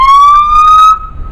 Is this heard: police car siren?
yes